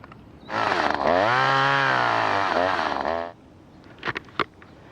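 A chainsaw revs up and runs steadily for about three seconds, loud and close, while cutting a bore cut to take down a tree top at a natural crotch, then stops, followed by a few brief clunks.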